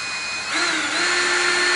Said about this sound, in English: drill this thing down in there